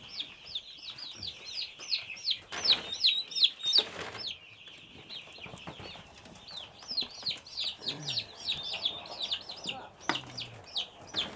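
Young turkey poults give a steady stream of high, thin peeping calls at close range, with brief bursts of wing flapping and low background noise.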